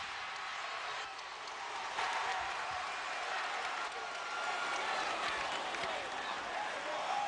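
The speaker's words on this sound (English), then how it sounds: "Reason they're cheering here is after the air ball he put up last night." College basketball crowd in the arena cheering during a free throw in a 1993 Michigan at Michigan State game, a steady, moderately distant roar of cheering and clapping that swells slightly midway and holds.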